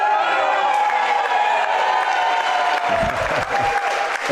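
Sports match crowd applauding and cheering, loud continuous clapping and whooping that stays full throughout, with close thumping sounds of play near the end.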